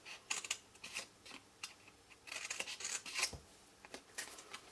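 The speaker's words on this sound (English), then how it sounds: "So cut into those triangular parts to the left and right." Scissors snip through paper while an envelope punch board box is being cut and shaped, a quick uneven run of crisp cuts with faint rustling and no talk.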